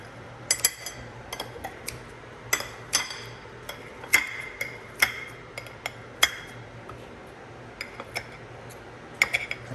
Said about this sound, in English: gotta cut up the hot dogs with the scissors like that